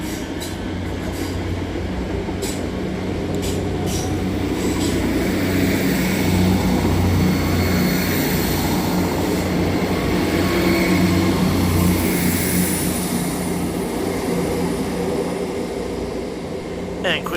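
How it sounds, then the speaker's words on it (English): Two Scotrail Class 385 electric units, 385107 and 385104, depart from the far side of Edinburgh Haymarket station on the 1850 Edinburgh Waverley to Glasgow Queen Street service, a steady loud rumble and whine that builds and holds with rail noise throughout. "Departing on the far side is 385107 and 385104, with the 1850 Scotrail service from Edinburgh Waverley to Glasgow Queen Street"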